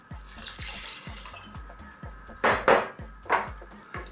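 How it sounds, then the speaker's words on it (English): Water poured into a pressure cooker of lamb curry, a short splashing pour with a running-water hiss, preceded by repeated low knocks and followed by a few louder splashy bursts. "I'm gonna put a dash more water in."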